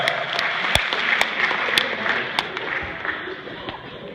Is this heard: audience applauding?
yes